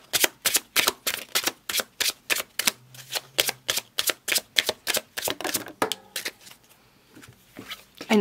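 Tarot cards are shuffled close up in a rapid, regular series of crisp riffling snaps, about twenty in quick succession, then a few softer card handling sounds at the end, no talk.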